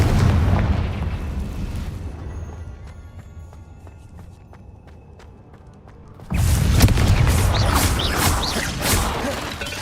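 Confringo blasting curse in Hogwarts Legacy going off as a loud, close explosive burst after a quieter stretch of ticking mechanical clatter, followed by sustained rumbling debris and scattered impacts.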